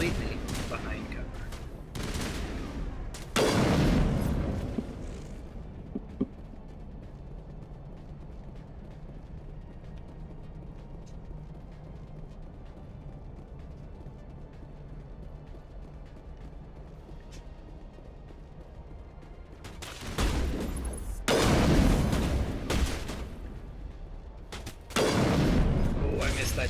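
Gunfire in Mass Effect Legendary Edition comes in loud, dense bursts at the start and again near the end, with a quieter stretch of low rumble in between.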